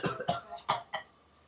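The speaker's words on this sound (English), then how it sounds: "I think he's coughing as a hint." A man coughs in a podcast studio, four sharp, close coughs in quick succession, then quiet.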